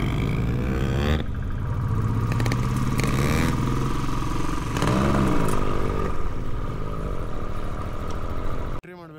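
A Royal Enfield Bullet motorcycle on a long ride from Bangalore to Ladakh: a continuous loud engine drone with rising and falling revs, heard close and steady, cutting off abruptly at the end.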